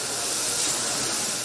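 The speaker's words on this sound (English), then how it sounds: "The sound of coffee beans turning could be heard Friday morning." Coffee beans tumbling inside a roaster at a spice and coffee shop, a dense, steady rushing hiss with no breaks, fairly loud and close, with no voices.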